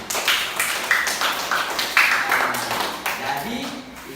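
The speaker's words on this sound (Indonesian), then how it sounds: "Tepuk tangan buat Fatin." Classroom of students clapping for a classmate, a quick burst of irregular handclaps near and fairly loud, with children's voices calling out over it.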